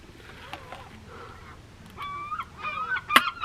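Gulls squawk and honk in front of a VW campervan on the Kent coast, with short harsh calls clustering near the end and one loud cry standing out over faint background noise.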